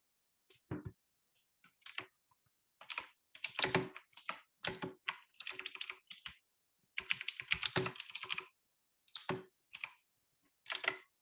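Typing on a computer keyboard in short bursts of clicky keystrokes separated by pauses, close and moderately quiet, with no speech.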